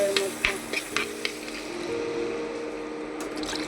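Water goes into fried spice masala in a pan for a Bengali silver carp fish curry, with a few brief clinks and splashes up front, then a steady soft bubbling hiss.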